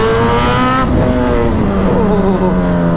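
A Suzuki Katana motorcycle engine revving, loud and close, its pitch climbing in a rising whine and then dropping and settling into a lower steady drone.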